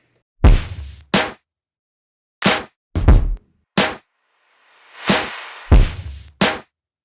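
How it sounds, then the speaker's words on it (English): Punchy hip-hop drum hits from a produced beat: sharp claps and snare smacks, two of them led in by a swelling reversed clap that rises into the hit. Close, dry and loud, with gaps of silence between hits. "Then I added a reverse clap to go into the clap."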